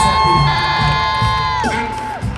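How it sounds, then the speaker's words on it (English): A concert crowd at UBS Arena in New York cheers and whoops loudly and steadily throughout, with shouting voices and a tonal, sustained sound that bends downward near the end. "I want to give yourself a round of applause for being a lovely audience."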